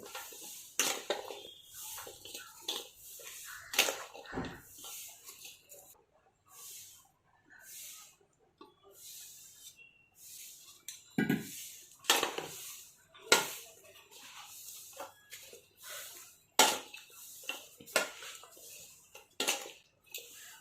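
Spicy raw mango pickle being mixed by hand in a pot, a scattered series of close metallic clinks, scrapes and soft rustles at an uneven pace with quiet gaps between them.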